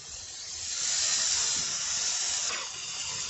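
A splash of water hits ginger paste, garlic paste and chana dal frying in a hot pan, raising a loud, steady steam hiss that swells and then eases slightly.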